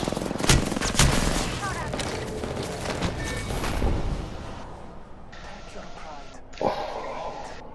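Bursts of gunfire in an Apex Legends fight, with sharp close shots and rattling volleys that thin out toward the end, alongside voices.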